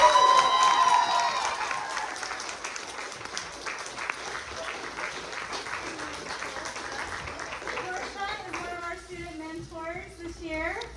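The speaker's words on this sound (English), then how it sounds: "Big round of applause." Applause at a school theater production of Twelfth Night as student coaches are thanked, a loud burst of clapping and crowd noise fading into lighter scattered claps, with voices speaking over the latter part.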